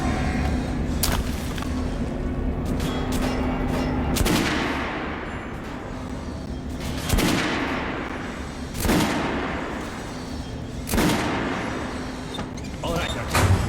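Gunfire at a shooting range in the game Metro Last Light, with sharp single shots cracking out every second or two and decaying into echoing reverb over a rumbling background.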